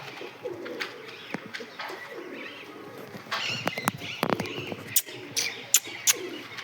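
Pigeons coo softly while sharp wing flaps and flutters burst out several times, some close and loud, against quiet outdoor air.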